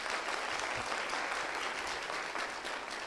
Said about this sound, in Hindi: पहले सवाल के लिए पहले ताली बजा देते हैं।